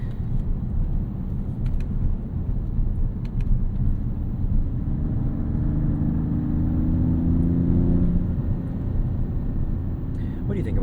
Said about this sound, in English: What do you think about the sound this car makes?